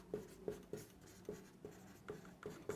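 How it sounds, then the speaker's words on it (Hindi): Pen strokes scratch on paper in quick, evenly spaced bursts, about eight short marks, close and faint, as notes are handwritten during a home science class. "इसको यहाँ पर लिख देती हूँ मैं।"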